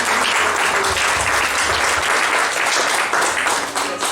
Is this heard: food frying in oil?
no